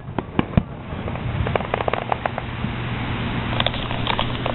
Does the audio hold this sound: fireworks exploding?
yes